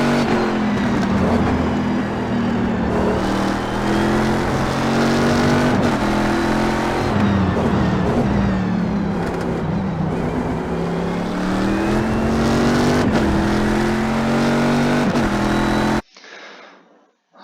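A C6R race car lapping Circuit of the Americas in iRacing, its engine roaring loud and close with rising and falling pitch through gear changes and corners, then cutting out abruptly at the end.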